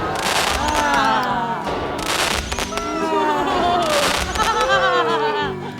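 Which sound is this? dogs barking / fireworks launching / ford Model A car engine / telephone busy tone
fireworks launching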